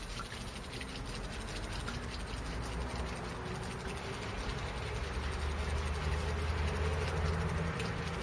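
Forcemaster 2000MK electric fishing reel paying out line with a steady mechanical whir and faint ratcheting that rises slightly in level, alone and close.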